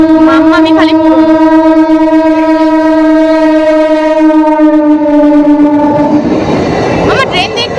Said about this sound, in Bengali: মামা ট্রেন দেখবি না?